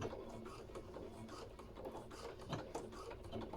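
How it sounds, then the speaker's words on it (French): A sewing machine stitches a fabric headphone cover, giving a close, steady run of fast mechanical needle clatter. "Et on coud jusqu'à l'autre paire."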